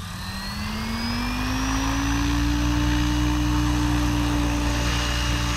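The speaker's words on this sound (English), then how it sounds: "So when we spool up here, the helicopter may want to rotate." A SAB RAW 700 RC helicopter spools up, its rotor and motor whine rising steadily in pitch and holding loud and close with no talk.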